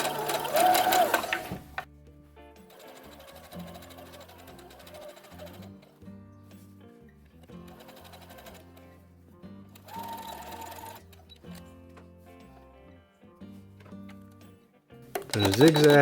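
Sewing machine stitching a zipper into a Star Wars jumpsuit, running in several bursts with short back-and-forth locking stitches, steady mechanical rattle at close range, pausing between runs.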